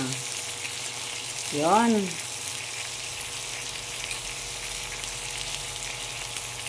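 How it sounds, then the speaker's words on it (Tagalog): Salmon fries in a lightly oiled pan with a steady, moderate sizzle throughout, while a voice briefly speaks over it early on. "Pinahiran ko ng mantika konti. Yung ano lang, mabasa lang yung kawali. Ayan. Salmon na isda."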